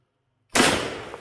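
One loud, close shotgun blast from a 3-inch turkey shell fired at a bucket, a sharp onset after silence followed by a short decaying roar.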